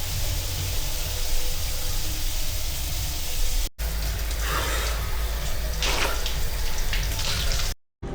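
Water poured over the body in a quick post-workout rinse, likely in a cold morning bathroom in New Zealand: a steady hissing splash of water continues throughout, broken by a brief cut, with no talking.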